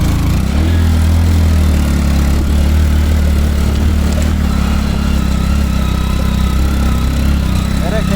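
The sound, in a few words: motorcycle engine running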